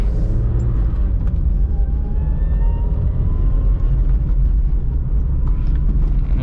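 Car engine drone steady and close inside the cabin during a short drive, a low continuous rumble with faint rising whine as it moves from first into second gear through an aftermarket shifter box; no voices.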